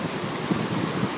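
Floodwater rushes under Bonnybrook Bridge in Calgary, a river swollen to about ten feet above normal; a steady, loud broadband roar with no voices.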